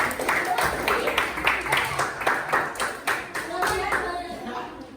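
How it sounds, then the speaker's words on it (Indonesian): Classmates in a school lesson clap for a student group, a moderate patter of handclaps from a small room that carries on steadily before tapering off. "kita beri tepuk tangan untuk kelompok"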